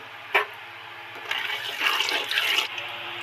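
Tap water runs in a kitchen sink as something is rinsed during cooking, a steady close splashing hiss that swells and surges in the middle before easing off, with no voices.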